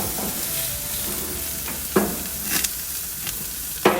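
Pork ribs and chops sear in a pan over high heat, giving a loud, even sizzle up close, with a few sharp clinks and scrapes of a utensil now and then.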